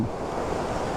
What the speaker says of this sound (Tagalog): Hala, lakas ng agos.